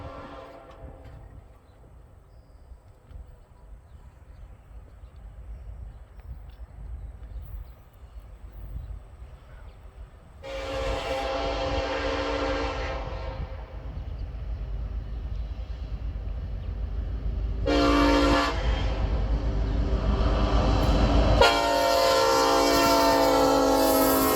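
A freight train approaches near Stanley Road by Vermilion, starting as a low distant rumble and rising into loud, sustained rail noise with bursts of horn-like tones, building steadily to a close pass at the end.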